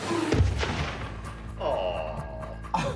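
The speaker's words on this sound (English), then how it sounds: "A-Team sewer explosion, final attempt to flip this car" A sewer explosion goes off under a car in an attempt to flip it. A sharp, heavy boom opens the clip, followed by rumbling debris noise and people reacting in the background.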